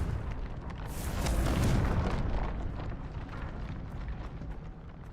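The Confringo spell detonates in Hogwarts Legacy, a loud rumbling blast that swells over about a second and fades slowly into a lingering low roar.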